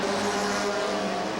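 The No. 11 Sunoco Firebird race car roars around the track at the 1999 Motorola Cup in Toronto, a steady, loud engine drone with no breaks.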